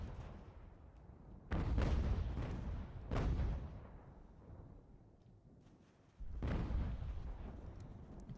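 Artillery bombardment in Ultimate General: American Revolution, with distant cannon volleys booming in irregular bursts, three heavy salvos standing out against a constant low rumble of battle.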